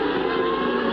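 Formula One race cars at the 1990 Mexican Grand Prix, including V8-engined cars, give a loud, continuous high-pitched engine whine that holds steady throughout with no breaks.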